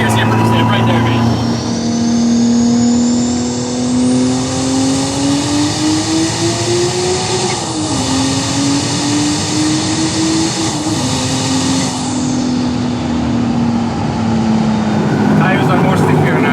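A 2JZ-swapped Lada Supra roars loudly and continuously as it accelerates, its exhaust note climbing in pitch through the gears, with a short dip and recovery midway and wind noise around the car.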